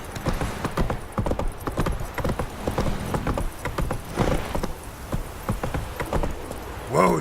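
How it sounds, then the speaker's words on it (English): Horse hooves clip-clop steadily in The Witcher 3 video game, a rhythmic run of close, fairly loud hoof strikes with a brief whinny-like burst near the end and some game sounds mixed in. "Whoa there, Roach."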